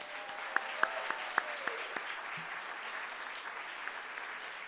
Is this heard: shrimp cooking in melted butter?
no